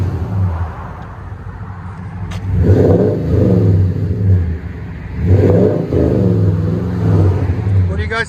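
A Toyota Tundra 5.7L V8 with a Flowmaster Super 40 muffler idles deeply, then revs up twice in two swelling bursts before settling back, loud and close, with voices speaking over it.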